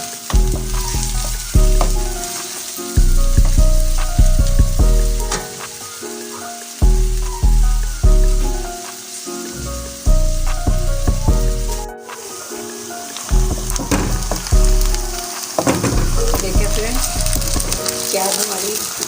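Chopped onions fry in a pan for a brain fry masala, sizzling loudly and close, broken by bursts of stirring and scraping in an irregular rhythm.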